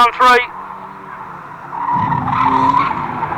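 Race cars at Fleet Raceway, a short sharp tyre squeal up front, then engine roar swelling as cars run down the back straight, with commentary talking over it.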